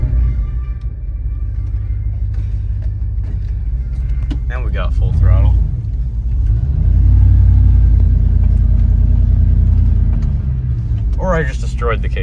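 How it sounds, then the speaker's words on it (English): A 1970 Ford Maverick engine, worked on outdoors in snow, rumbles loudly and swells as it revs at full throttle, with a surge mid-clip; a voice talks briefly over the engine noise. "Now we got full throttle."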